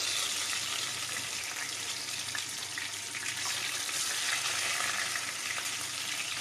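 Thin sea bream fillets fry skin side down in a hot pan, giving a steady, dense sizzle that stays even and loud throughout with no voices.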